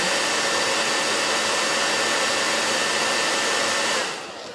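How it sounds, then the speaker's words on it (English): A small blow dryer runs steadily and loudly with a broad airy roar during a makeup routine, then cuts off near the end. "I'm gonna warm up my little blow dryer."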